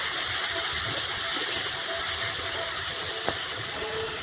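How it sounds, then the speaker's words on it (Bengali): Vegetables sizzle in a hot pan while being fried for a veg sandwich, giving a steady, even hiss with a faint clink partway through and no voices. "ভালো করে ভেজে নিতে হবে।"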